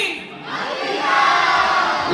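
A concert crowd at a film premiere show roars together on a count of three, a loud sustained shout from many voices that swells and holds for about two seconds.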